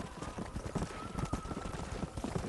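Steady clip-clop of horse hooves from Red Dead Redemption, a quick rhythmic trot of close, clear hoofbeats that continue throughout alongside a faint tone.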